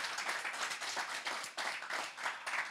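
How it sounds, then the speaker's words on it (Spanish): Steady applause from a church congregation during a Sunday service, dense overlapping claps lasting throughout, moderately distant and fairly quiet. "Let's give God a round of applause"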